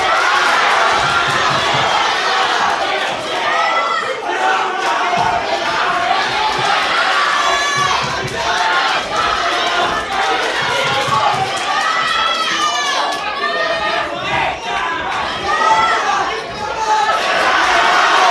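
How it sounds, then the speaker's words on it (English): A packed crowd at a boxing club home show cheers and shouts loudly and continuously, with excited yells rising and falling throughout. "Massive shots landing, this crowd absolutely loving it."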